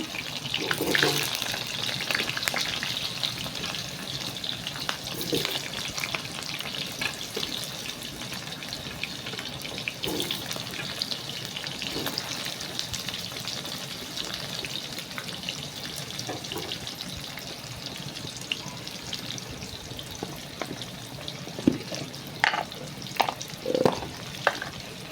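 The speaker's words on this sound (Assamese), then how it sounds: "আলুটো অকণমান ভাজি লওঁ আগতে" Cut potatoes fry in a pan with salt and turmeric, giving a steady, close sizzle throughout. Occasional scraping and clattering stirs rise above it, with no one talking.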